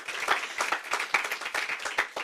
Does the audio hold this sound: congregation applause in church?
yes